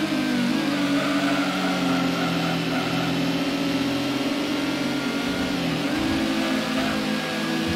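A Honda Integra in Gran Turismo on the PlayStation drones along under a continuous, close engine tone that holds steady and dips briefly as the revs shift, with no speech over it.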